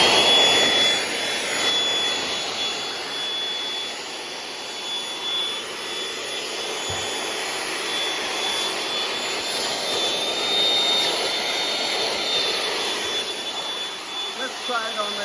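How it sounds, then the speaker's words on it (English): A Ridgid 18V cordless battery vacuum runs steadily at close range, a constant broadband whir with a thin high whine that holds level for the whole stretch, with no pauses or changes in pitch. "So I'm gonna turn it on so you guys can hear it"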